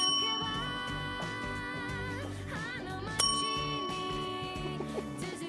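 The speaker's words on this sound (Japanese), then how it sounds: "呼び鈴鳴らすけども誰も来てくれないみたいですね" Bright bell-like dings from a doorbell being rung at Kanryu-ji temple in Kurashiki, several struck tones ringing out and decaying over a quiet background, one sharper metallic clang near the middle.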